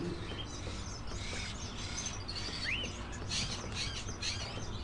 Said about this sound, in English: Are those crows in the cages?